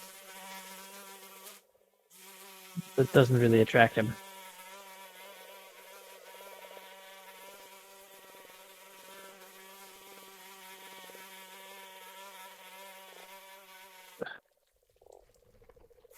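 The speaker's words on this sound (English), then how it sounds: "there's definitely the sounds of like buzzing coming from the door" Flies buzzing behind a door in a dungeon during a Pathfinder 2E Abomination Vaults tabletop session: a steady, high droning hum with shifting tones runs throughout, broken by a brief louder burst near the start, while one voice speaks briefly.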